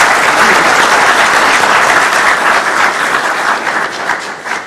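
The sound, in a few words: audience applause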